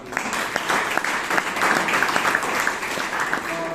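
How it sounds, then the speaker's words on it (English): A Toastmasters meeting audience claps for a speaker and evaluator pair, a dense steady patter of many hands filling the room from start to finish at moderate loudness. "the pair of the speaker and the evaluator requires one round of applause"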